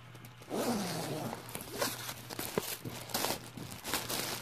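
A zipper closure on a Sam Edelman Darcy handbag is pulled along its length, a close rasping zip lasting several seconds with small crinkles and taps from handling the bag.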